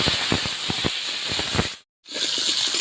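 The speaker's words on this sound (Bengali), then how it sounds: "এখন আমি পেঁপে ভেজে নিচ্ছি।" Papaya frying in hot oil in a pan with potatoes and spices, a loud continuous sizzling hiss with small crackles, briefly cut off near the end, then resuming.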